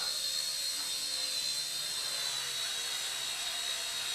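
A Hisky HCP60 RC helicopter at full throttle with its motor bogging down, giving a steady high-pitched whine and buzzing rotor hiss indoors, faint and even throughout, with no talking.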